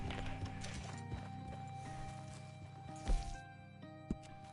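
Horse hooves clip-clopping in the Red Dead video game, a few scattered hoof strikes and a louder thud under steady game ambience and music, with a brief whinny-like sound.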